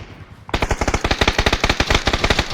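Rapid automatic gunfire in PUBG, a long unbroken burst of loud, closely spaced shots beginning abruptly after a moment of near quiet and holding steady to the end.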